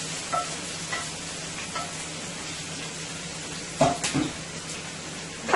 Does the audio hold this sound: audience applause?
no